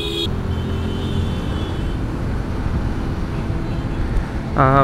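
Busy main road crowded with buses before Eid: a steady low traffic rumble throughout, with a short horn-like tone at the start and a wavering horn blaring loudly at the end.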